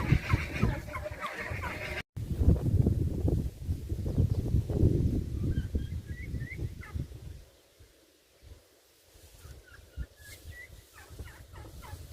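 A turkey gobbles in a garden among pepper plants, its calls sounding in short bursts over rustling and movement, then thinning to quieter chirps and scattered clucks as the background falls away.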